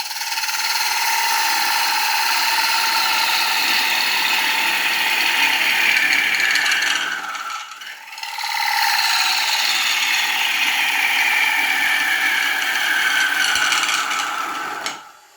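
Lathe gouge cutting punky wood while woodturning, a steady broadband scraping hiss with a tonal whine, continuous and close for about seven seconds, a brief dip, then resuming for the rest of the cut.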